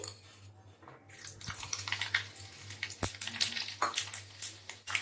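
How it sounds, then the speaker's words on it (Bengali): Mustard seeds tempering in hot oil just after the gas is switched off, with scattered sharp crackles and pops spluttering close by over a faint background. "আমি গ্যাসটা বন্ধ করে দিয়ে এখানে সর্ষে ফোড়ন দিচ্ছি"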